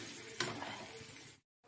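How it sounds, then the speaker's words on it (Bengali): Spices sauté in a pan, a close, steady sizzle with one sharp scrape of stirring early on before the sound cuts out briefly near the end. "এই যে মশলা কষানো চলছে"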